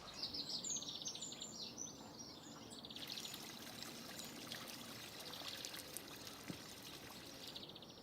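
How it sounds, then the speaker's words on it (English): Water trickles and splashes steadily from a garden water feature in a peaceful garden, a soft, continuous flow with birds chirping brightly overhead, especially at the start. "I sit and I listen to the water, and it's very peaceful"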